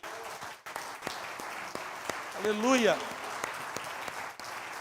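A church congregation applauds in praise during a Portuguese-language sermon, steady broadband clapping running underneath a preacher's voice as he calls out in worship.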